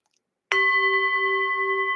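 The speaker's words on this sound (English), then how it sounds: "Oh, nice perfect ring." A hand bell struck once at a New Year gathering gives a clear, bright ring that starts sharply and sustains with steady harmonic overtones, ringing out alone without fading.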